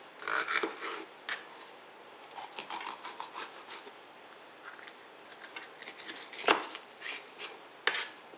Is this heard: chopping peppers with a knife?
yes